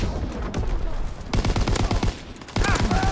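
Rapid Call of Duty WW2 multiplayer gunfire, loud close bursts of repeated shots in quick rhythmic volleys separated by brief pauses, with game noise filling the gaps.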